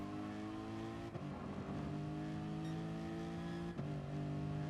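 A Lexus RC F Gr.4 race car in Gran Turismo Sport at the Nürburgring GP circuit, holding a steady, buzzing engine drone broken by two brief dips like gear shifts, with no voices.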